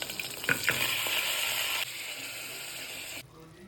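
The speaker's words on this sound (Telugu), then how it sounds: "స్టవ్ ఆన్ చేసి ఆయిల్ వేడెక్కాక అందులోకి అల్లం వెల్లుల్లి పేస్ట్, పచ్చిమిరపకాయలు, మటన్," Mutton, ginger garlic paste and green chillies hit hot oil in a pan with a loud, crackling sizzle and a couple of sharp spatters that ease into a steadier fry, then drop off quieter near the end.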